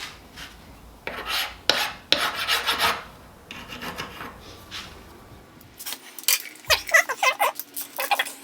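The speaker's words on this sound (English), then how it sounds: "So now we just clean it up with a file a little bit." Hand file rasping over a Honda Goldwing motorcycle part being cleaned up, with repeated close, loud strokes in bursts separated by short pauses, a faster rhythmic run of strokes near the end.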